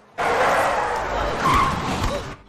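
A Hummer speeds past and nearly collides with a car in an Indian action film, heard as a loud sustained roar and tire skid that swells and fades over about two seconds, with voices mixed in.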